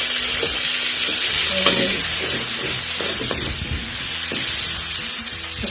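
Onions sauté in a pan for Bisaya-style paklay, giving a loud, steady sizzle with scattered stirring scrapes throughout; a single short word is spoken over it.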